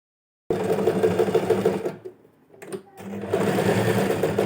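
A sewing machine stitches elastic onto cloth for a fitted skirt, running in a fast, steady close-up whir, pausing briefly with a few soft clicks, then starting up again at full speed.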